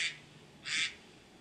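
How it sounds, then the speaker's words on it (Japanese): Two short bursts of duck quacking about half a second apart, moderately loud against a quiet indoor background with no talking. "アヒルが鳴いてるよ。"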